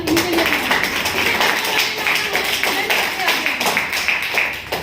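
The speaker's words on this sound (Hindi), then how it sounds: "मैं इनके लिए भी एक बार आपको जोरदार तालियां" A crowd at a business seminar in Solan applauds continuously, dense steady clapping filling the whole stretch with a loud, even wash of hand claps.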